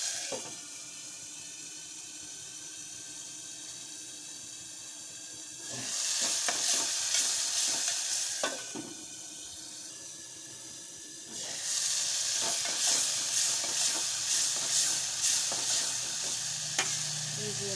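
Moong dal tempering sizzles in hot oil, with quiet stirring at first and then two loud, crackling bursts of frying punctuated by the clink of a spoon.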